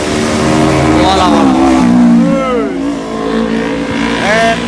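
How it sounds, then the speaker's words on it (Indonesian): A motorcycle fitted with a CJDW Budinn-type aftermarket exhaust revving hard and close, its engine note rising and falling in quick blips, loud and raspy, with voices talking over it. "jadi seperti itu ya untuk cek sound knalpot tipe apa ya? FT Pro"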